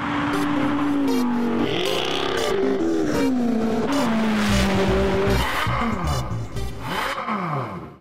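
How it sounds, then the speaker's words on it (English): A 600 brake horsepower limited-edition 2015 Ferrari 458 Speciale Aperta V8, driven hard on a very cold day, roars loudly and close as its revs climb and fall through the gears, with tires squealing. "It's time to take this 600 brake horsepower limited edition Ferrari out for a thrash."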